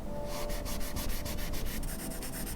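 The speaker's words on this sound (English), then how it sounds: "I also shaded the jumper and then rubbed it with my finger" A fingertip rubbing pencil shading on paper, a close, soft, rhythmic scratchy swishing of repeated strokes with no voices.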